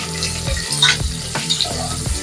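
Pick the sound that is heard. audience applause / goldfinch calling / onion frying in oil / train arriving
onion frying in oil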